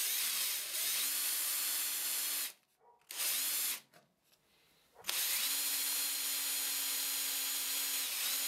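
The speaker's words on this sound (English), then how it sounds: "to drill in cast iron, I first use a smaller bit and then the bit of the size that I wanted the bolt to go in" A power drill bores into cast iron on a bandsaw under restoration. The motor whines steadily, cuts out twice for short pauses, then spins up again in a close, even drone.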